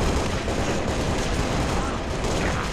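Dense, continuous gunfire from Halo: Reach fills the whole stretch at loud, close range, a sustained roar of overlapping shots and blasts with possible battlefield voices buried underneath.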